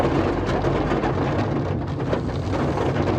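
Heavy rain pours steadily with low thunder rumbling through it, a dense and loud wash of sound that runs the whole time with no voices.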